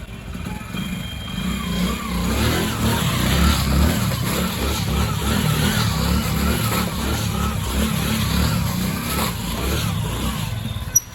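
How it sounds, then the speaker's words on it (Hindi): A 100cc motorcycle spins donuts on a wet surface, its small engine holding a steady mid-pitched drone with mild revving swells that stay close and continuous, ending with a brief click. "कितनी इजीली एक ही जगह पे मैंने डोनट्स मारे"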